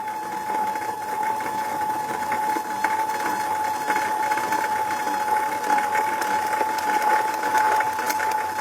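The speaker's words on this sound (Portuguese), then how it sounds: "no fim eu pus pouco chantilly na batedeira e ele nem vai pegar" An electric mixer whips ready-made chantilly cream in a steady, loud, close motor whine with a constant pitch, running without pause and with no talking.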